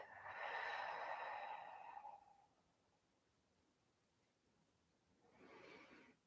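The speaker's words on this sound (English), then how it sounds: "And breathe" Slow, deep breathing during a seated stretching exercise: a long, broad inhale drawn for about two seconds, a quiet pause, then a softer exhale near the end, close and alone with no talk.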